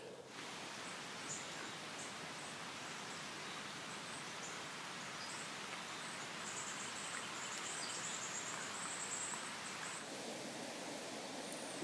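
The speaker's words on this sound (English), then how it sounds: "Actually starting to get a little rain out here." Light rain falling outdoors, a soft steady hiss of fine drops with faint insect or bird chirps in the background, constant and fairly quiet.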